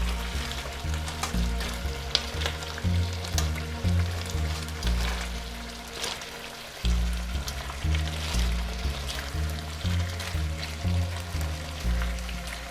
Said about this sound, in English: so now that our ribs are ready, we're gonna start searing them